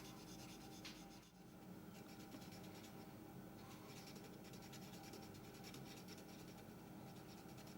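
A cotton bud rubbing steadily over a painted number on a model locomotive, a close continuous scratchy scrubbing with no pauses.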